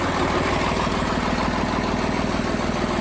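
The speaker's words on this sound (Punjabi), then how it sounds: "ਟਰੈਕਟਰ ਦੀ ਓਕੇ ਸਟਾਰਟਿੰਗ ਹੈ" A loud Swaraj 735 tractor diesel engine idles close by, a steady throbbing chug with constant vibration and no pauses.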